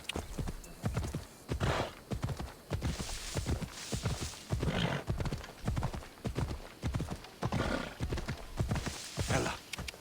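Steady clip-clop of horse hooves in a quick rhythm throughout, with a brief whinny mixed in, close and fairly loud, from the video game Assassin's Creed Odyssey.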